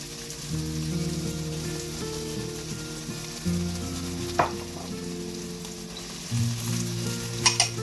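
Diced onion sizzles steadily in a hot pan for a Brazilian picadillo, a dense crackling hiss running throughout with a few louder pops and stirring clatters near the end.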